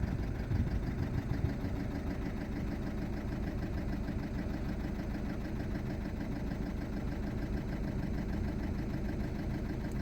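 A Volkswagen Golf 6 with a 1.6 TDI diesel engine idles roughly on three cylinders because one injector has failed, giving a steady, loud, uneven knocking rumble that holds throughout with no talk.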